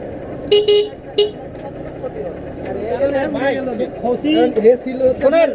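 Vehicle horns on a busy road at the scene of an accident, with short sharp toots early on and traffic rumbling beneath, while voices talk over the noise.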